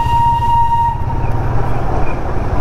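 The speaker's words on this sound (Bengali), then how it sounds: "এই সাউন্ডটা এত মিষ্টি লাগে না, মানে অন্যান্য ট্রেনের মতো এই হর্নটা নয়।" The Darjeeling toy train sounds a single sustained tonal horn lasting about a second, heard close over the steady rumble of the moving train.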